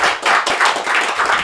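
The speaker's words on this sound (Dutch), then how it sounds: "We gaan heel hard klappen voor Menno Schmidt." An audience at a spoken poetry event applauds poet Menno Smit, with a loud, dense burst of close hand clapping sustained throughout.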